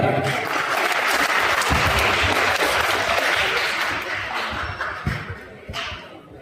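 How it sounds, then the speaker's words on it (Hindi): A school hall audience at a book launch claps loudly in a dense, sustained burst that fades and breaks up into scattered claps near the end, with no voices heard. "जोरदार ताली"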